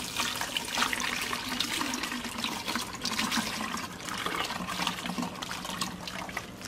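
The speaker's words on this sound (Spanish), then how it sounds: "Y poco a poco le vamos a ir incorporando el agua para irla enjuagando." Water poured over ground oats to rinse them, a continuous splashing trickle with steady sloshing texture running throughout, close and moderately soft, no voices.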